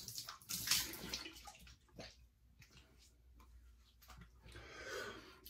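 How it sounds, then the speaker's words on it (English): Warm tap water runs and splashes in a bathroom sink for a rinse after shaving, in short, uneven gushes with quiet gaps between them, at a moderate distance and without speech. "All right, a nice warm rinse."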